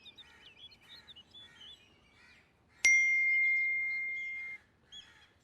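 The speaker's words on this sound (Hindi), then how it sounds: "किसका मैसेज है?" A phone message notification rings in a Pakistani comedy drama scene, a single bright ding that hangs for about two seconds and fades, set among faint birdlike chirps.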